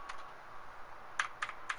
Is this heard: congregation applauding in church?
no